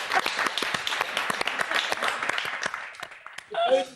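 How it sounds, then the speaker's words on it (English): Scattered applause from neighbours, heard in honour of Barry Humphries, with uneven claps over about three seconds and a voice speaking at the end. "A standing ovation."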